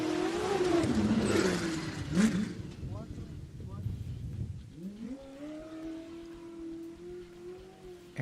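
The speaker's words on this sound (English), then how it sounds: "Hear him getting on and getting off the throttle." Rally race vehicle in the NORRA Mexican 1000 off-road race, heard from inside the car: rough, noisy cabin roar at first, then the engine note climbs and falls as the driver gets on and off the throttle.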